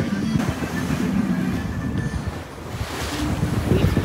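Ocean waves and wind wash steadily around a boat sailing through fog off Newfoundland, a continuous close rumble with gusty microphone wind over it and no clear talk.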